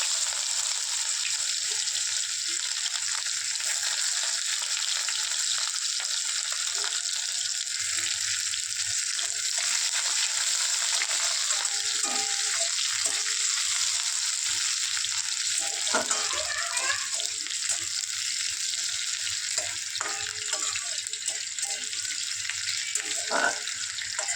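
Chopped onions fry in a pan with a constant bright sizzle all the way through, while scattered clinks and scraping stirs come through close by and no one talks.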